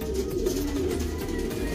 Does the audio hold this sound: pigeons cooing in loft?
yes